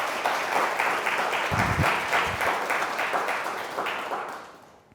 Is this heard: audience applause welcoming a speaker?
yes